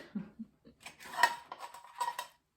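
A cooked egg omelet is lifted out of a frying pan, with a few light scrapes and metallic clinks of a utensil against the pan, fairly quiet and close, with no talking.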